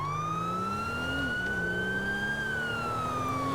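Wailing emergency vehicle siren in a roleplay video game, a steady loud electronic tone slowly rising in pitch, then falling, sounding continuously and close up over a constant background rumble.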